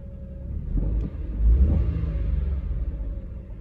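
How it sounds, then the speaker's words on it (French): The small three-cylinder engine of a Honda Insight hybrid runs smoothly at about 1000 rpm, a steady low rumble with a brief swell partway through. "le petit 3 cylindres, il a un bruit normal"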